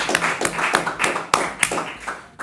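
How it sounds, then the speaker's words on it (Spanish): A studio audience claps for the guest being interviewed: a broad, dense burst of many hands at close range that rolls on steadily for a couple of seconds, with no voices over it. "siempre arrancamos con un aplauso para el entrevistado"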